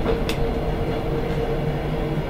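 Compressed air hisses steadily out of the driver's brake valve in the cab of an ED9M electric train, a continuous close rush with a faint low hum beneath and no speech.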